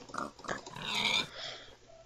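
Pig oinking in a Christmas-themed block-building video game, a few short grunting snorts spread over two seconds at moderate loudness, one longer squeal-like call in the middle, with no talk.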